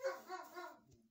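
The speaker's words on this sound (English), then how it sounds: "Sorry about the dog barking." A dog barks a few times close by, a short burst of barking and yelping that fades out within about a second.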